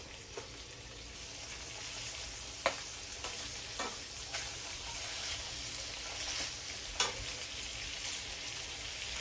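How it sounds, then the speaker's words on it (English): A pan sizzles steadily with a bright hiss, dotted with occasional sharp pops and crackles of frying fat. "once you start to hear your pan sizzle"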